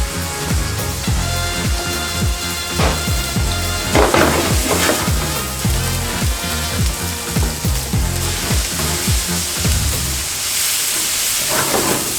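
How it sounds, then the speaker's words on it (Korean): Ground beef and ground pork sizzle and crackle steadily in a hot pan, loud and close, with repeated scraping and stirring sounds throughout. "고기를 이런 식으로 튀기듯이 볶아주셔야 됩니다"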